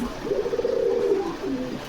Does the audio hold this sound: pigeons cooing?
yes